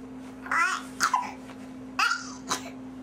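A baby girl babbles in short bursts of rising, squeaky vocal sounds, close and clear, with pauses between each attempt at talking over a steady electrical hum.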